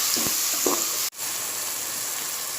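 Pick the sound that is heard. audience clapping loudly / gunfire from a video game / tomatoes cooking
tomatoes cooking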